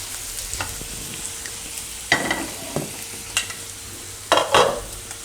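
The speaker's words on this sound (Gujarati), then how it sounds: "પનીરને આપણે આ રીતે થોડો કલર ચેન્જ થાય એવું શેકી લેવાનું" Paneer roasts in hot oil in a pan, giving a soft continuous sizzle punctuated by several sharp bursts of spluttering and scraping stirs, close and alone without talk.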